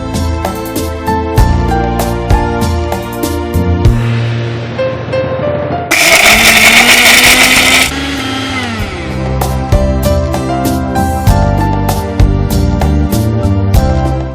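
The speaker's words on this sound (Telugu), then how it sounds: "ఇవన్నీ వేసి మిక్సీ పట్టుకోవాలి." Mixie grinder pulverizing pepper, cinnamon, poppy seeds and coconut into masala powder for mutton pulao, a loud close whirring roar in pulses with a brief high-pitched surge midway, no talk.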